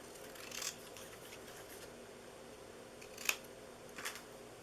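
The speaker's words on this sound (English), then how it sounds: "I'm just going to cut out by hand here" Scissors cutting paper by hand for a DIY candy treat box, heard as three quiet, brief snips spread apart in a soft, steady room hush.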